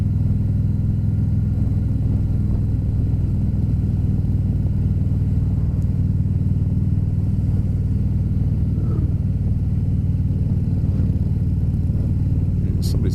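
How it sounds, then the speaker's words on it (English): A couple of motorcycles ride along a leisurely country road, a steady low engine rumble heard close and continuous for the whole stretch, without speech over it. "Oh, a couple motorcycles."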